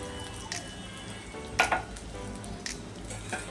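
Cumin seeds dropped into hot oil for a Marathi tempering for fasting puris sizzle softly, with a few sharper crackles and pops over a quiet kitchen background.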